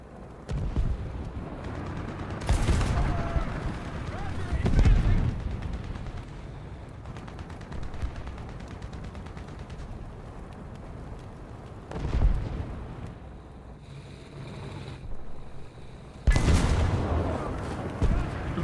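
Tank cannon fire in a War Thunder-style tank battle with an M8A1 GMC and an IS-2, several loud booming shots and blasts spaced across the stretch, mixed with game rumble and someone commenting throughout.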